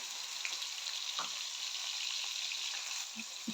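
Chopped onions dropped into hot oil give a steady, moderately quiet sizzle with a couple of faint clinks near the end, no speech.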